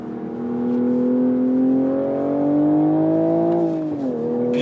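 A manual Toyota GR Supra pulls hard on a race track, its engine note droning loud and steady as it climbs in pitch, then dipping sharply near the end as the driver shifts.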